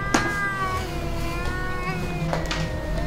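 A cat meows loudly and repeatedly at night, drawn-out wailing cries close by, with a couple of sharp noises breaking in.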